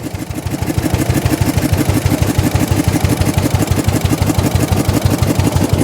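The engine of a 1904 De Dion Bouton veteran car idles steadily up close, a loud, even chugging pulse that runs without a break.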